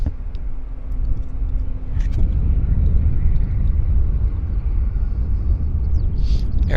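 A heavy jet at Vancouver Airport roars as a loud, steady broadband rumble heard from fairly close, rising slightly after the first couple of seconds and holding through to the end.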